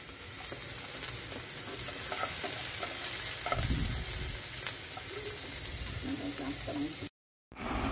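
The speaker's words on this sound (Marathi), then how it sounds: "आता टाकणार आहे कॅप्सिकम फोडणीला" Capsicum sizzles and crackles steadily in hot tempering oil, with occasional stirring scrapes, up close, before a brief cut to silence near the end.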